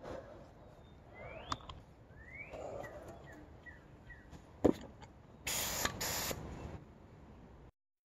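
A paint sprayer lays a thick coat onto a boat's Bimini top, heard as two short, loud hissing bursts near the end after a quiet stretch with scattered clicks and chirps.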